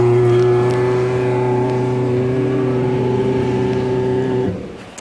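A Dodge Hellcat idles loud and close with a steady, droning engine tone and strong harmonics, then the sound drops off abruptly near the end as the engine is cut or the car moves away.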